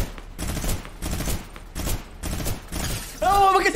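Rapid gunfire in a shooting video game comes as repeated bursts of shots under a player's excited talking, ending with a loud tonal in-game sound.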